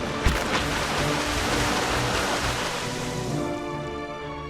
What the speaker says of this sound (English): God, the amount of splashing that happens is astounding.